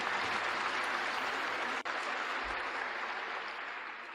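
Sustained audience applause fills a large hall at the 2001 Berkshire Hathaway annual shareholder meeting, a dense steady clapping that holds throughout and tapers slightly toward the end.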